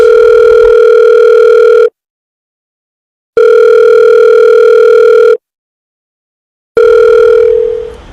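A steady electronic telephone ringback tone sounds in three long pulses separated by silent gaps, loud and clear with no voices.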